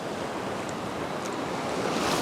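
Ocean surf breaks on a beach in a steady, dense wash of rushing water, continuous and fairly close, with some wind noise and no talking.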